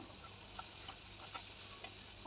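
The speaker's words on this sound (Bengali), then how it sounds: "এখন সবটা মিলিয়ে আমি অনেকটা সময় লো আছে দিয়ে ভাজা ভাজা করে নেব" A quiet, steady sizzle of chicken and vegetables frying on low heat in a pan with soy sauce, broken by a few soft scrapes of stirring.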